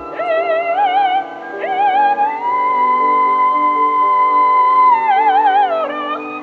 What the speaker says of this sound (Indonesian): Ini lu coba denger sedikit dulu deh, suara kastrato nih kayak apa.